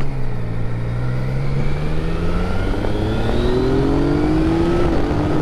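Yamaha Tracer 900 GT motorcycle with a quickshifter, the engine droning loudly and rising steadily in pitch under acceleration, with a brief dip as it shifts gear without easing off.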